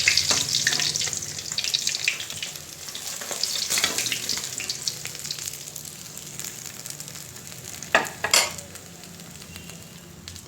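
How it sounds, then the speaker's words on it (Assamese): Potatoes and two green chillies fry in hot oil in a pan used for fish, Assamese style, with a steady close sizzle and a couple of sharp utensil clinks near the end. "তেলতে 2টা জলকীয়া দি দিলোঁ, লগতে আলুখিনিও দি দিলোঁ। আলুখিনি ভাজি লওঁ।"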